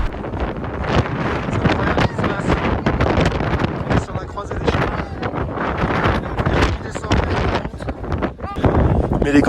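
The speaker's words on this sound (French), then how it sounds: "Il y a beaucoup de vent, je sais même pas si on m'entend là" Strong gusting wind buffets the microphone high on Acatenango volcano in Guatemala, loud and continuous with rough surging bursts.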